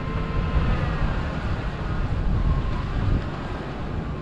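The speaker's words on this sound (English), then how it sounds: "A little bit of wind." Wind blowing across a beach, a steady, loud, low rumbling rush buffeting the microphone throughout, with no voices.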